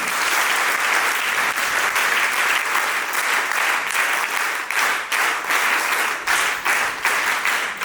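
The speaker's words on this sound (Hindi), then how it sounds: "तो एक बार इन सभी के लिए जोरदार तालियां" Loud crowd applause for NCC cadets at a Kargil Diwas event, dense sustained clapping with some sharper individual claps standing out toward the end.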